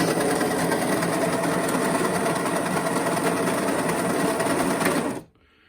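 Coffee grinder set one notch on the lever, grinding fresh beans in a loud, steady, close whirring buzz that cuts off abruptly near the end.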